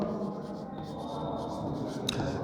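A pen or chalk scratches across a board during a school science lesson on atomic structure, a soft, continuous writing rasp up close with no speech over it.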